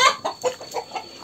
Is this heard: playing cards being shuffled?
no